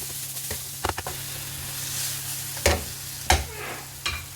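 Fresh tomato sautéing with onion and garlic in a pan for chicken caldereta, a steady soft sizzle broken by several sharp scrapes and clacks of stirring, close and without talk.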